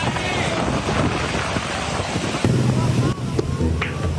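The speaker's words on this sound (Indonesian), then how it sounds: "Hujan dan angin kencang melanda wilayah kota Bogor, Jawa Barat Kamis sore." Strong wind buffets the microphone in a constant broadband roar during a heavy rainstorm in Bogor, West Java, with rain noise and faint low voices underneath.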